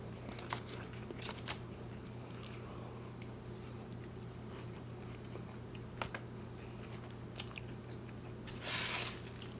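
Someone chews an In-N-Out grilled cheese burger with raw onions and burnt, heavily toasted bread, giving close, soft, wet bites and crunches over a steady low hum, with a brighter crackle near the end.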